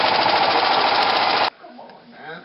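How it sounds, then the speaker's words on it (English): A sewing machine stitches a Gii plush toy, running in one loud, steady continuous burst for about a second and a half before cutting off to quiet room sound. "go ahead and you can start sewing"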